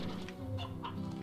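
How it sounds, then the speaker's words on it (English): Chickens cluck in the video game Slime Rancher, a few soft, short clucks close together over a quiet background. "I heard chickens, by the way."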